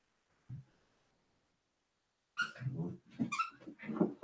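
Dogs whining and barking indoors, one short yelp, then a pause, then a burst of excited vocalizing that keeps going, fairly close and moderately loud.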